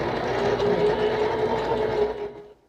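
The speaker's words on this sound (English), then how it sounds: "Behind a sewing machine." A sewing machine runs in a continuous close whirring buzz for a couple of seconds before winding down and stopping.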